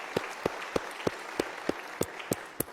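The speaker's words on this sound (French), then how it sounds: "j'ai envie pour démarrer qu'on l'applaudisse un peu" A slow, steady run of about nine distinct hand claps at a business talk, evenly paced and fairly faint against a quiet room background.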